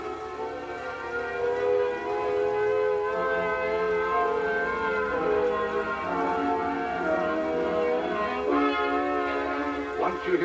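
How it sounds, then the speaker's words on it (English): A civil defense air raid siren sounds a warbling alert, its wavering tone held steady and loud throughout, with a brief lower rumble near the end. "the alert will be a warbling siren blast"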